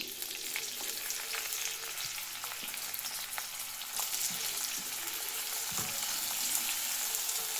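Onions fry in oil in a pot for a chicken sambar, making a steady close sizzle with occasional stirring clinks and scrapes, alone without speech.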